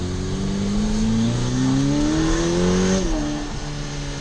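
A 2023 Ferrari F8 Spider accelerates hard, its engine note climbing steadily in pitch, then drops sharply on an upshift around three seconds before pulling again. The sound is loud and close, from inside the car.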